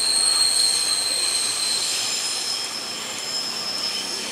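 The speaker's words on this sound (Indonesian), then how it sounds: "Nah, di belakang saya ada lokomotif lagi." Locomotive rolling along a busy railway line, with high, steady wheel squeal ringing over a soft rumble, fairly loud and fading slightly toward the end, no voices.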